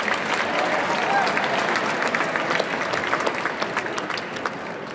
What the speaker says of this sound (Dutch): Geef ze nog een heel groot applaus, die helden van het Collegium Musicum